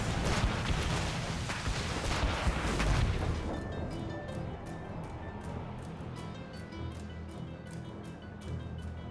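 Naval cannon fire in Assassin's Creed Rogue during a ship battle, a loud barrage of deep booms and rumbling blasts early on that eases into steadier, quieter battle noise with rhythmic clattering.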